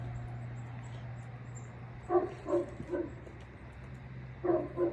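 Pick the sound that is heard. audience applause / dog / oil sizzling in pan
dog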